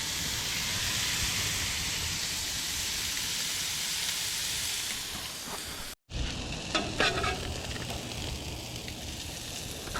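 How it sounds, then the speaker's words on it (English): Food sizzles loudly on a hot oiled surface, a continuous crackling hiss, with a brief clatter of a utensil partway through. "Listen to that sizzle."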